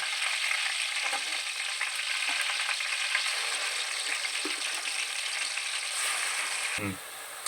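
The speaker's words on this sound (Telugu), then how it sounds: "ఒక ఐదు నిమిషాలు వేగనివ్వాలండి పెద్ద మీడియం సెగ మీద పెట్టుకొని" Onion paste fries in a pan for fish curry, giving a continuous close hiss and sizzle with occasional soft stirring taps and a brief clunk near the end.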